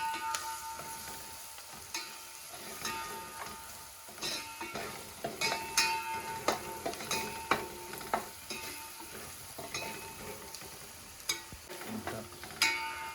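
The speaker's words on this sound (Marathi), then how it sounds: "आणि आता हे सर्व मस्त मिक्स करून घ्यायचा परतून." Spices such as turmeric, garam masala and coriander powder being stirred and sautéed in hot oil in a pan, a soft sizzle under repeated sharp scraping and tapping of a spoon against the pan, close and fairly quiet.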